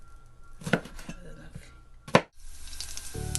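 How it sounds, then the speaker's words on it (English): Green beans sliced on a slant with a kitchen knife: two crisp, close chopping knocks about a second and a half apart, over faint kitchen background noise. "for the green beans, you cut it slant"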